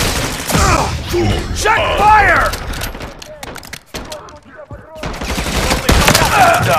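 Heavy gunfire in the zombies mode of Call of Duty: Modern Warfare III (2023), loud rapid bursts of automatic shots broken by a short lull, with voices speaking over the shooting.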